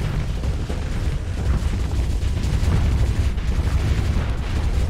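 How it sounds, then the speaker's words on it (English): Ship guns firing in the space combat game Starsector, a dense continuous barrage of booming shots and explosions rumbling without pause, loud and heavy throughout. "Guns are firing."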